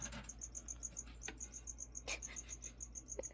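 Crickets in a pet enclosure chirp steadily in a fast, regular high-pitched train, fairly close and continuous, with faint background rustling and no talking.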